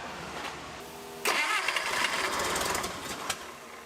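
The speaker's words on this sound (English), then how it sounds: "It's alive! It's alive! Give her some throttle, Duff." An old Bobcat engine cranks briefly, then catches and fires up loudly, settling into a rough, rattling idle close by with a few throttle blips.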